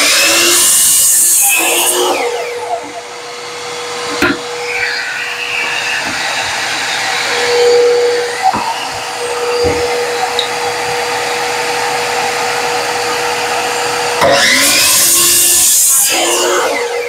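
A saw cuts wood for a robin birdhouse while the shop dust collection runs as a loud steady whine, with the cut sounding as a long sustained drone and brief knocks along the way.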